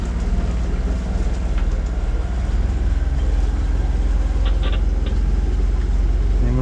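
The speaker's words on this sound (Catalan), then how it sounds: "Estem provant el motor després de netejar el dièsel i canviar el filtre" A boat's diesel engine runs steadily at sea after its fuel was cleaned of diesel bug and the filter changed, a constant low throbbing drone mixed with wind and water noise, with no talking.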